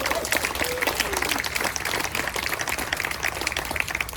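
Audience applause for the Casa Grande Choir and the Sea Cadets color guard at an outdoor post office renaming celebration in Petaluma, a steady wash of many hands clapping with scattered crowd noise throughout.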